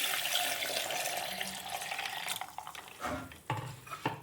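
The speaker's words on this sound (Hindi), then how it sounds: "और अब इसमें डालेंगे हम पानी। तो 3 गिलास में इसमें पानी डाल रही हूँ" Water poured from a glass into a container of beetroot and lemon juice in a home kitchen, a steady splashing stream that tapers off, followed by a few clinks and knocks of a glass.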